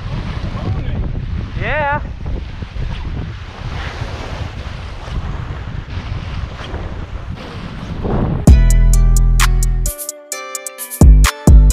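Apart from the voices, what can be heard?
wind blowing on a beach while surf fishing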